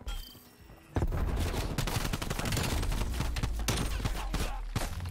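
In a Search & Destroy match of the Call of Duty game Cold War, an AK74U fires from the hip as a loud, fast burst. Tight, rattling shots crowd together almost without pause after a short quiet start.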